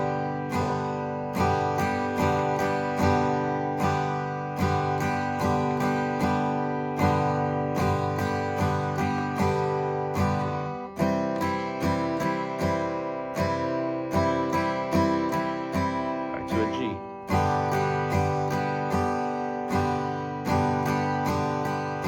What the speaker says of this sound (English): I'll finish off with playing the rhythm guitar part